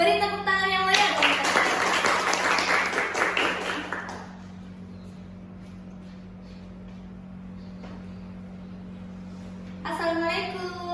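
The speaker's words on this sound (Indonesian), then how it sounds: "Beri tepuk tangan yang meriah dong." Audience applause at a school event, a steady burst of clapping lasting a few seconds, which then fades into quiet room tone with a low hum.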